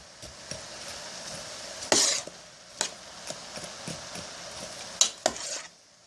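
Partly frozen cauliflower being stirred in a sauté pan: scattered scrapes and sharp utensil clinks against the pan over a faint sizzle, with a few louder knocks.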